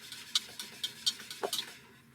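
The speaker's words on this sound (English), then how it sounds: "Let's give it a little whisk" A whisk stirring cream into a rice pudding mixture in a bowl, giving quiet, close, irregular light clinks and taps against the bowl, about a dozen small strikes over two seconds.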